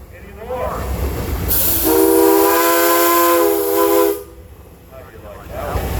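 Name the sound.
steam whistle of 1922 Baker steam engine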